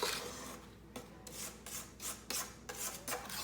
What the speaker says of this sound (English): I'm going to take the back of my spatula and scrape around the edges